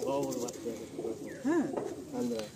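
Pigeons kept for sale coo in soft rolling calls while being held in the hand, with several close, repeated coos across the moment.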